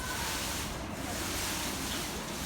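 Water falling in the water clock at Osaka Station gives a steady, close rushing splash, unbroken and even from start to finish.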